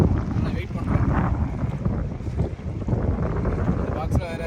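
Wind gusts steadily on a fishing boat out at sea off Pamban, a constant roaring buffet over the microphone with water and hull noise underneath, loud and close throughout.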